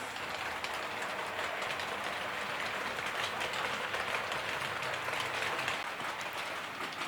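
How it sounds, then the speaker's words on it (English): A model EFE Hymek diesel locomotive hauling a rake of Hornby and Bachmann coaches down an incline, a steady rolling rumble and faint wheel clatter running continuously at close range. "Here's a nice forward on view of the loco coming down our incline."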